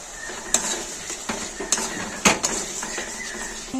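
A spoon stirs chili soyabean masala in a pan, giving scattered metallic scrapes and clanks, a few sharper knocks, over a soft background sizzle, close and moderately quiet.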